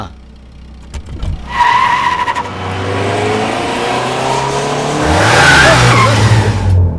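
A car speeds in and brakes hard in a film scene, with rising engine roar, then long loud tire squeal and skidding that lasts several seconds close by.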